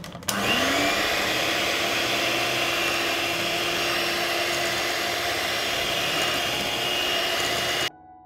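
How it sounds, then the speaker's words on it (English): An electric hand mixer beats cake batter with milk and lemon juice, switching on with a rising whine and then holding a steady, loud motor drone for about seven seconds before cutting off abruptly. "I will beat everything with a mixer"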